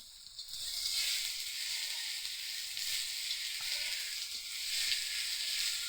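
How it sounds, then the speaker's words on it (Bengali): Chopped tomatoes sizzle in hot oil in a pan while cooking a pabda fish rezala, a soft, steady frying hiss with faint stirring scrapes, close and unbroken. "চলুন টমেটোটা ভালো করে ভাজা হয়ে যাক, একটু গলে যাক"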